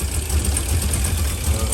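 An LS-swapped OBS Ford truck idles steadily with a low, even rumble and a regular pulsing beat, loud and close throughout.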